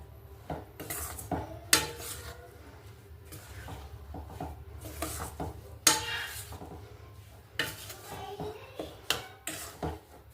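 Coarse wheat flour being stirred and roasted on low heat in ghee in a metal pan, with repeated scraping clinks of a spoon against the pan and occasional louder knocks over a steady low background.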